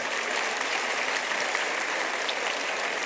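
Dense, sustained applause from a lecture audience, a steady even roar of many hands clapping close by, without speech over it.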